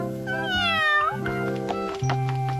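A cartoon cat meows in a Doraemon episode, giving a rising, wavering mew close up over a steady tonal music bed.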